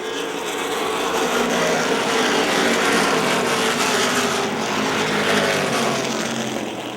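Race cars roar around the Motordrome Speedway oval during a five-division event, a dense, continuous engine drone that swells and holds steady at close range throughout, with no talk over it.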